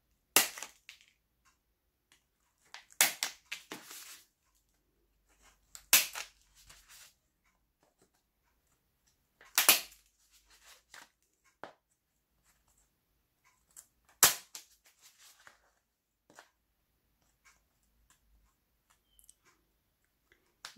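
A rhipsalis plant being cut back during repotting gives a handful of sharp snipping crunches spaced several seconds apart, close and crisp against near silence.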